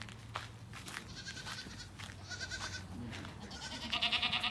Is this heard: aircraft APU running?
no